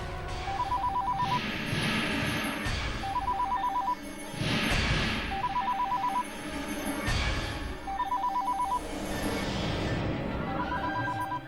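A phone rings in repeated electronic trill bursts at regular intervals, five rings in all, fairly loud over a noisy background.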